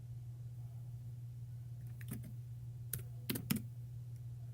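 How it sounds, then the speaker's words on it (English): Faint computer keyboard typing comes in scattered sharp clicks, a couple of isolated taps followed by a quick burst of keystrokes over a steady low electrical hum. "I can hear your keyboard"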